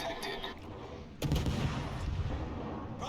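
Warship artillery fire booms in World of Warships naval combat, with a loud, heavy blast midway following softer distant shots, and rumbling continuing after.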